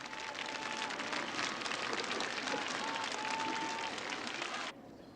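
Large crowd greeting Pope John Paul II applauds and cheers in a steady, distant-sounding wash of clapping and voices that cuts off abruptly near the end.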